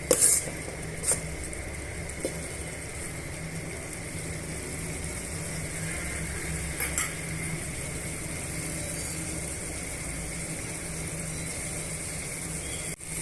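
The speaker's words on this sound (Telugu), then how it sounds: "తగినంత అల్లం వెల్లుల్లి పేస్ట్ యాడ్ చేసుకున్న తర్వాత ఇవి బాగా మిక్స్ చేసుకొని కొంచెం సేపు ఉడకనిద్దామండి" Mutton biryani base with ginger garlic paste stirred in a pot, giving steady soft scraping and clinking of a utensil against metal with a low simmering hiss throughout, no talking.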